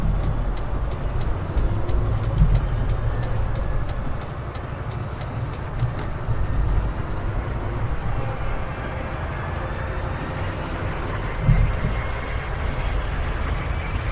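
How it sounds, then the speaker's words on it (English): A Mack Pinnacle truck engine in American Truck Simulator drones with a steady, low, heavy rumble, holding close and constant for the whole stretch with only slight swells. "Pretty nice engine sound, though, I gotta say that."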